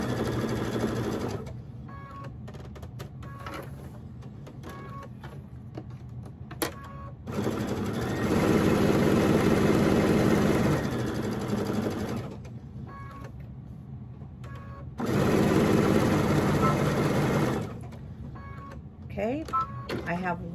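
A sewing machine stitches a small quilted mug rug in two sustained runs of steady, close mechanical whirring, each lasting a few seconds, with someone talking in the quieter stretches before, between and after.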